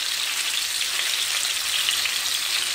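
Pointed gourd shallow frying in oil over a high flame gives off a loud, steady, dense sizzle that runs unbroken throughout, close up with no voices.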